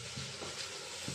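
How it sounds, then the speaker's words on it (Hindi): Spices crackle and sizzle in hot ghee for a tadka, a soft continuous frying hiss with small pops, fairly quiet. "ये तड़का लग रहा है"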